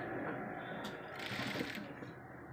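A sewing machine runs in a fast, steady, quiet hum while stitching a pleat on a sleeve, with brief higher-pitched mechanical whirs partway through and no clear talking.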